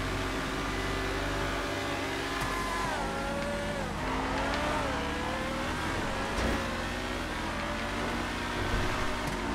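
A Rapid GTE race car in GTA FiveM, its engine droning steadily with rising and falling revs and shifting pitch, loud and continuous throughout with no talking.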